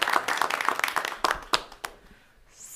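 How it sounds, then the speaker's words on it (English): A short burst of audience clapping at a school board work session honors students, with scattered claps thinning out and fading to near silence within a few seconds. "Another round of applause for these young people for spending their evening with us."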